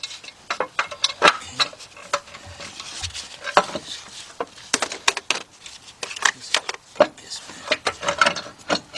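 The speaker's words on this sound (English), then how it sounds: "So what I need to do is back this bolt out." Ratchet wrench backing out a bolt on a Chrysler Sebring or Dodge Avenger engine during timing cover work, giving a close, busy series of sharp metallic clicks and ratcheting bursts mixed with tool and part clatter.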